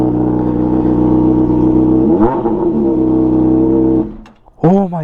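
A motorcycle engine with its exhaust baffle removed revs loud and close, its steady harmonic roar sweeping through a throttle blip partway, then dropping off before one more sharp rev at the end; a voice briefly exclaims over it.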